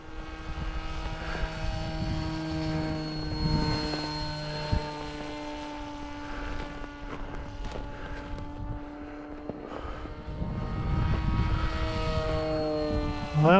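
An RC flying wing model plane drones overhead with a steady propeller whine that wavers in pitch as it passes, staying fairly close and continuous throughout without talk.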